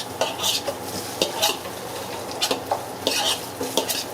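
Garlic goes into hot oil in a pot, and a steady sizzle with bursts of crackling plays under repeated scraping and stirring from a utensil.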